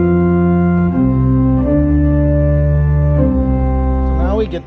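Organ playing a Buxtehude variation theme in a major key, with sustained chords moving slowly through several changes in a steady, loud texture, ending with a brief flourish and no talk.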